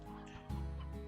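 Hens in the video game Slime Rancher give short clucks, quiet and close, with a fuller burst of fowl sounds midway.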